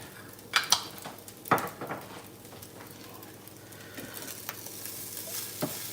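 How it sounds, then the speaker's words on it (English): Egg and shrimp fried rice hisses in a hot pan while a utensil stirs it, with a few sharp scraping clinks early on over a steady, soft sizzle. "Just want to give it one last mix."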